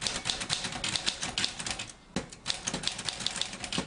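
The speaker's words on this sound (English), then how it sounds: "When is the last time you've seen one of these, the classic manual typewriter?" A classic manual typewriter struck in quick, uneven keystrokes, crisp clacks running steadily with one brief pause, close and clear with no voices.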